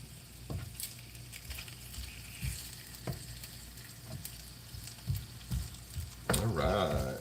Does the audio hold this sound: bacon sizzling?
yes